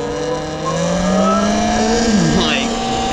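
A Talaria XXX electric dirt bike being ridden, its motor giving a loud, rising whine as it speeds up over a few seconds, heard close.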